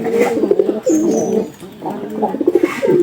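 Several pigeons coo in a domestic loft, repeated throaty rolling calls in overlapping bursts, close and clear with faint background noise.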